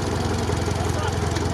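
A Mercedes G-Class driving off-road on rough tracks, its engine a steady close rumbling drone with a throbbing low pulse, and someone speaking over it.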